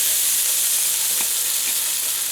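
Potatoes fry together with onion in a pan, giving a dense, even sizzle that runs unbroken for a couple of seconds, with no talking.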